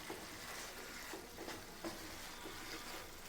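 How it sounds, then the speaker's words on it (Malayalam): Cooked, chopped lemon pieces go into boiling pickle masala, giving a soft, low bubbling sizzle with a few light stirring scrapes, faint and close. "ഞാനിതിലേക്ക് നാരങ്ങ ചേർത്ത് കൊടുക്കുവാണേ. നാരങ്ങ വേവിച്ച് അരിഞ്ഞു വെച്ചതാണേ."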